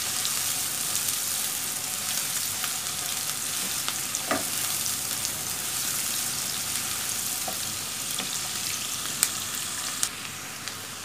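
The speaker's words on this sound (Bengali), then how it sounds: "যতক্ষণ পর্যন্ত পেঁয়াজের একটা সুন্দর কালার না আসবে ততক্ষণ পর্যন্ত নাড়তে হবে" Onions frying in a pan, a dense continuous sizzle with a few faint clicks of a spoon stirring, close and steady throughout, no voices.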